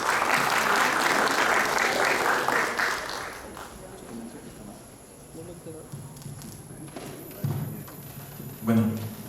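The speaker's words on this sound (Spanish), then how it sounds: "también lo recibimos con fuertes aplausos" Warm applause from an audience welcoming an intensive-care nurse speaker at a medical training program, loud steady clapping that fades after about three seconds, followed by quieter room noise and bits of speech.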